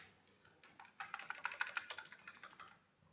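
Rapid typing on a computer keyboard, a dense run of soft key clicks that builds in the middle and tapers off, close and fairly quiet with no talking.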